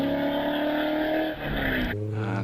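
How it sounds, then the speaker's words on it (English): A Triumph TR7 with a V8 engine races at a Prescott hillclimb, its loud engine roaring steadily near the listener. The pitch holds and then shifts sharply as it changes gear. "in the TR7 with the V8 engine"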